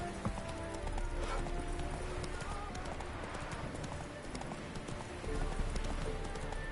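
Horse hooves clip-clopping at a steady galloping rhythm in The Witcher 3 on PS4, continuous and close, with game ambience around it.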